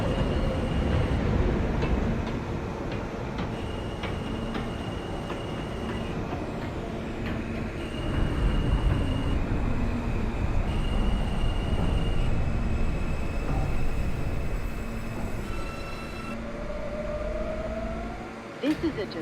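An R160 J local subway train runs in the OpenBVE train simulator, a loud steady rumble of wheels and motors with tonal whines and rising pitch sweeps near the end.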